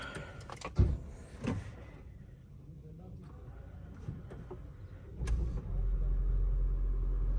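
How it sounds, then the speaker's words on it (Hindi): A car being started after an oil change: faint clunks and door or window sounds, then a few seconds later the engine catches and settles into a steady low idle hum. "गाड़ी स्टार्ट होगी"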